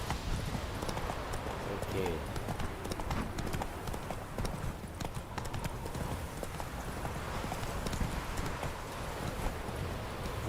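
Roach, a horse in a video game, trots along with a steady clip-clop of hooves at close range. Someone talks over the hoofbeats now and then.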